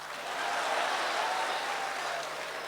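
Steady, dense applause from a large audience at the Lal Quila mushaira, an all-India Republic poetry gathering, filling the whole stretch at an even level with no voice over it.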